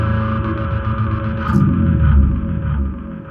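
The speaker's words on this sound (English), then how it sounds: "So first of all, I use this Morley wah." Bass guitar played through a Morley wah pedal, growling distorted notes with sweeping filtered tone and a brief bright spike midway, loud and close with no speech.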